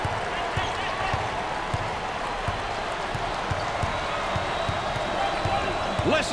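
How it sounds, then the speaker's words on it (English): Crowd noise fills an NCAA college basketball arena during a Western Illinois at Wisconsin game, a constant roar with repeated ball bounces and squeaks, commentators talking over it. "listen to the crowd. You can cut the intensity with a knife."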